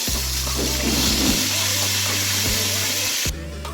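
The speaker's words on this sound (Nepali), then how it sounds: "हामीले चाहिँ यतापट्टि ससेस फ्राई गर्दैछौँ।" Chicken sausage fries in a pan with a steady sizzle and hiss, broken by a few low clanks near the start and a sudden drop in level just before the end.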